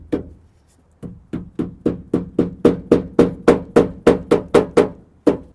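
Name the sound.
hammer tapping down insulation strips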